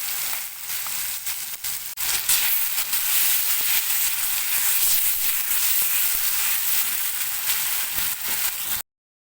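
Spice paste with turmeric fries in hot oil for a prawn malai curry cooked in green coconut, a loud, steady close-up sizzle with crackling spits that runs unbroken before cutting off abruptly.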